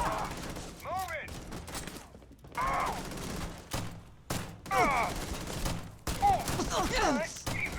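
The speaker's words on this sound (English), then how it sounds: "Stop shooting me." Gunfire in the video game Starfield during a Terrormorph attack, scattered bursts of shots and whooshing energy blasts in uneven clusters, with brief quiet gaps and faint voices mixed in.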